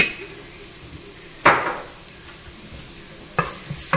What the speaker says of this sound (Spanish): Seguimos moviendo.